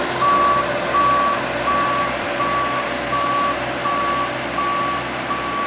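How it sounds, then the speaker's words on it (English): Reversing beeps from road rollers and trucks at a cold mix road paving job, a steady evenly spaced series of tones over a continuous engine rumble. "Got the rollers making their final pass"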